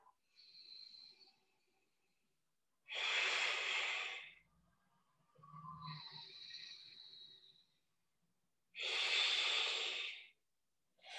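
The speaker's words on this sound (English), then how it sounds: "Really connect to your breath." Slow, deep breaths during a yoga forward bend in a hatha class: two long, loud breathy exhalations with a softer breath cycle between, close and steady, with no talk.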